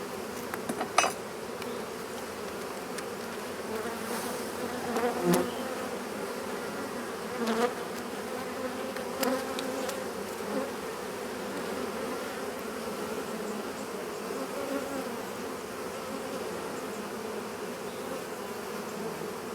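A honeybee swarm hums steadily around a swarm trap at Gilford Lake, a continuous close buzz with individual bees zipping past now and then, and a few faint knocks in the background.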